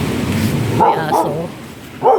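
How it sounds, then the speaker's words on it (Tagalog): A dog barks at a beach resort in Bauan, Batangas, a few sharp barks standing out over steady background noise. "May aso."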